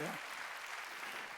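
Congregation applauding during a Sunday church service, a short burst of steady clapping that stays fairly quiet and distant after a brief voice at the start.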